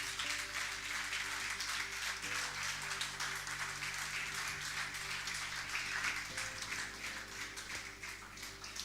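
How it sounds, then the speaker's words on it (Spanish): A church congregation applauds in a dense, sustained wash of clapping at low level, with a held organ or keyboard chord sounding underneath throughout. "Dale un aplauso al Señor."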